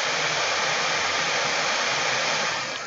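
MSI GT73VR 7RE gaming laptop fans running at full Cooler Boost speed, around 5,000 RPM, a loud steady rushing whoosh of air held throughout, easing slightly at the very end.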